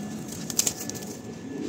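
Madras pigeons released from a fancier's flock, giving a short burst of wing flaps in the middle of a quiet outdoor background, close and brief.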